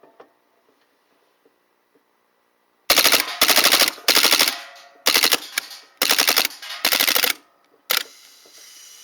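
A Cybergun/KWC Taurus PT92 CO2 gas blowback airsoft pistol empties its magazine in loud, rapid clattering bursts of several shots each. The bursts are separated by short gaps and grow choppier toward the end.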